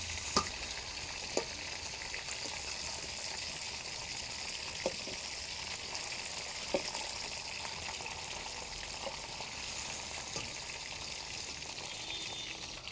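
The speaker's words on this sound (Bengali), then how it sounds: "আমার মাছ ভাজা হয়ে গেছে, এবার এটাকে নামিয়ে নেব।" Bhola fish frying in a pan, a steady broad sizzle of hot oil running throughout with occasional sharp clicks and scrapes of a utensil against the pan, no voices.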